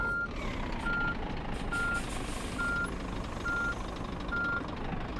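A long truck reverses in the PS5 video game On The Road Truck Simulator, its backup alarm giving seven evenly spaced high beeps over a low, steady diesel engine rumble.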